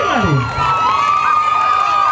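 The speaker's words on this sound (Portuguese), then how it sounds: "Os aplausos para Hillary!" A lively crowd at a Voice Santa Helena singing competition results show bursts into cheering and applause, with shouts and whoops riding over clapping, loud and close throughout about two seconds.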